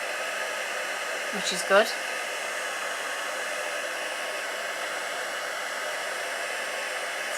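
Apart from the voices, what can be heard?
heat tool blowing hot air on flowers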